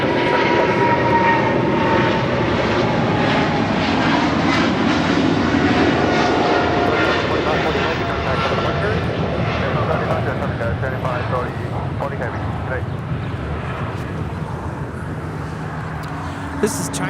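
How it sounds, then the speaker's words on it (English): A China Southern Cargo Boeing 777 freighter roars down the runway on takeoff at LAX, a loud, sustained jet engine rumble that fills the clip and slowly fades as it climbs away, with voices talking over it. "This is China Southern Cargo 2540 taking off to Guangzhou on a 777 freighter."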